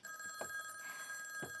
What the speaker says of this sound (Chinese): 刚说着电话铃就响了。